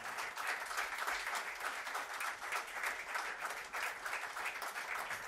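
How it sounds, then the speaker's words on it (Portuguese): Audience applause for the festival organisers and production crew at a concert, a steady, dense wash of many hands clapping throughout, sustained and fairly close. "uma salva de palmas para a organização"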